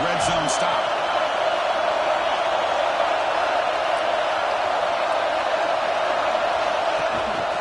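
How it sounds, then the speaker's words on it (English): Stadium crowd roaring in the College Football 26 video game, a steady, loud wash of noise that holds throughout, with a brief whoop near the start. "This crowd is trying to inspire this defense to make a big red zone stop."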